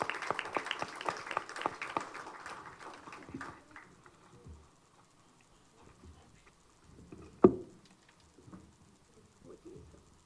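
At a national educational conference, an audience gives a short, loose round of applause for a speaker being welcomed to the dais. The clapping thins and dies out within a few seconds, leaving a quiet room with a single sharp knock and faint shuffling.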